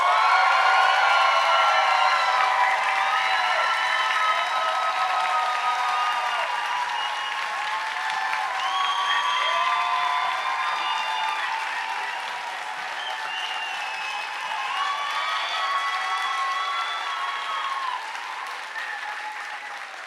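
A science slam audience claps and cheers in a long, loud burst of dense applause with scattered whoops, fading slightly toward the end.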